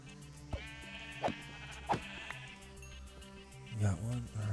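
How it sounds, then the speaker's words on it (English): Sheep in the Minecraft video game bleat several times in short separate calls over a steady game soundtrack, with players talking and a thicker burst of sound near the end. "Sheep."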